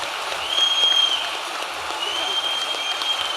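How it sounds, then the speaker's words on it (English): An audience at a Brexit rally in Bolton claps for a panel in a steady, dense wash of applause that holds evenly for the whole stretch, with a faint voice over it. "a big round of applause for the panel."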